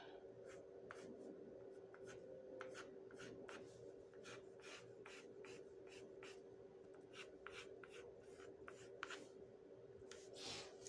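A black pencil drawing on paper, sketching an illustration of heads and faces: steady, close scratchy strokes repeating in short bursts over a constant background hum.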